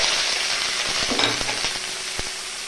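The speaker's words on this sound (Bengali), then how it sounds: "সরিষার তেল গরম হয়ে গেল, আমি পেঁয়াজ কুচি দিয়ে দিচ্ছি" Chopped onion hitting hot mustard oil in a pan, a steady loud sizzle and crackle of frying running throughout, with a few soft clicks of stirring.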